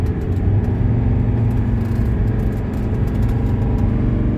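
A 1981 Mercedes 300SD accelerates up a hill. The engine gives a steady, loud rumble heard from inside the car, with continuous road noise and no talking.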